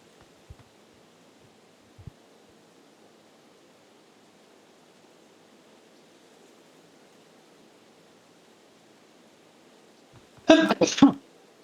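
One sharp sneeze near the end of an otherwise quiet stretch, with soft background hiss and a couple of faint clicks earlier.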